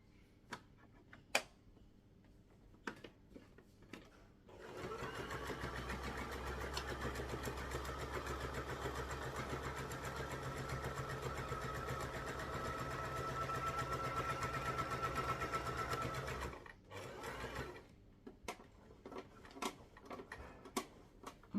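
A domestic sewing machine stitches an opening in fabric closed, running steadily for about twelve seconds after a few light clicks and handling sounds, then stopping, with more small taps following.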